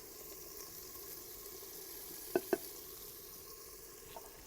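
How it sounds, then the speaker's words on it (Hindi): A low, steady sizzle of spice masala frying with tomatoes in a pan, quiet and continuous, broken by two sharp little knocks close together midway and a faint tap near the end. "तो अब इन मसालों को जो है अच्छे से भून लेंगे।"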